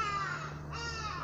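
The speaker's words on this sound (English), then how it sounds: "The birds are singing." Crows caw repeatedly amid a steady outdoor bird chorus in Nairobi, Kenya, with harsh calls standing out over a continuous background hum.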